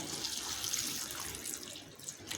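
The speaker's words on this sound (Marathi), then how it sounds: "त्याच्यामध्ये आपण थोडं पाणी घालून घ्यायचं आहे" Water poured over sticky ivy gourds (tondli) to wash them, a close, steady splashing rush that runs unbroken from start to finish with no voices.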